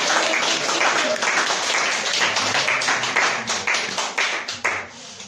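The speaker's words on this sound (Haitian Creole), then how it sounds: "Applaudissez le Seigneur matin." A church congregation applauds together in sustained, dense clapping that fills the whole stretch, then breaks into more distinct rhythmic claps toward the end.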